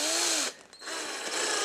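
A power drill with a small axle chucked in it whirring steadily at high speed, briefly dipping as it slows, then spinning up again.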